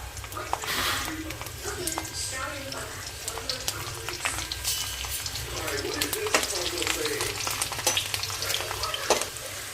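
Onions and soya chunks sizzle and crackle in a hot pan with occasional stirring scrapes, a steady frying hiss heard close up while someone talks over it.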